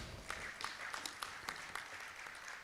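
A conference audience at a bank officers' association meeting in Kozhikode claps briefly. The applause is fairly faint and somewhat sparse, with a few distinct claps standing out.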